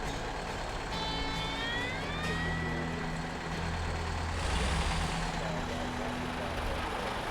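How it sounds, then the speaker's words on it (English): A truck engine idles steadily in SnowRunner, a continuous low droning hum with a whining tone sweeping partway through and a brief louder burst near the middle, heard under talk. "I was trying to turn off the engine. It wouldn't turn off."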